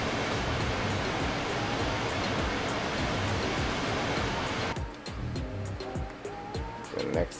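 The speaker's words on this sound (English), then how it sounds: "the waterfall in the background." A waterfall on a Farming Simulator 22 forestry map makes a constant dense rush of falling water. It is loud and unbroken for nearly five seconds, then drops to a softer, thinner background with scattered clicks.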